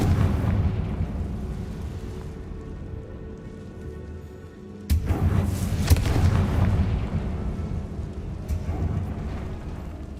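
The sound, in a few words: Bombarda and Confringo explosion spells in video game Hogwarts Legacy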